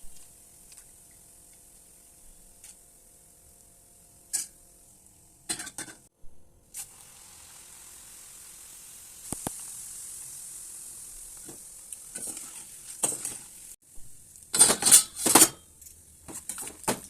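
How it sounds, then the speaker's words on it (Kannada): Poha frying in hot oil over a low flame for a Karnataka-style avalakki mixture, giving a steady soft sizzle with scattered clinks of a metal spoon against the pan and louder stirring bursts near the end. "ಈಗ ಎಣ್ಣೆ ಕಾದಿದೆ, ಲೋ ಫ್ಲೇಮಲ್ಲಿ ಇಟ್ಕೊಂಡು ಅವಲಕ್ಕಿ ಫ್ರೈ ಮಾಡಿಕೊಂಡು"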